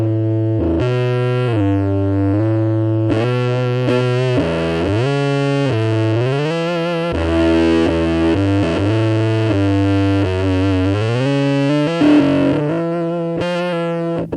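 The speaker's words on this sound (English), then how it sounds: "all of the complex harmonics available in the guitar are reduced to almost a sine wave type sound on the bass strings." Electric guitar played through a Boss MG-10 amplifier on a heavy distortion setting, a close, loud sequence of sustained buzzy notes and slides with a smoothed, nearly sine-like tone on the low strings, no talking.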